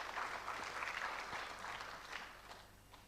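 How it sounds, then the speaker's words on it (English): An indoor audience at a memorial lecture claps together in a dense burst that gradually thins and fades over a few seconds, with no one speaking over it. "Please give her a round of applause."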